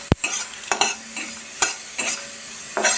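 Spice masala fries in a pan as a spatula stirs it, giving a steady close sizzle broken by repeated scraping strokes and a sharp clack at the start.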